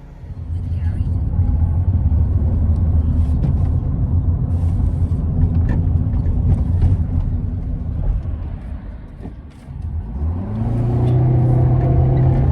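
A small manual car's engine drones steadily from inside the cabin, dipping briefly as gears change, then rising again as it pulls away.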